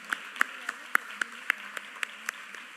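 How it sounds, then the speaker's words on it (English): Claps for the visiting artists from Jammu and Kashmir at a cultural festival seminar: a faint, sparse series of sharp, evenly spaced hand claps, roughly three per second, over a low steady room hum. "A big round of applause for the artists from Jammu and Kashmir"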